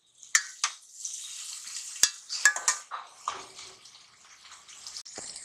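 Chopped onion and fresh coriander are stirred into roasted mashed eggplant for baingan bharta, giving close, uneven scraping and stirring with light sizzling and wet clicks of a spoon against the pan.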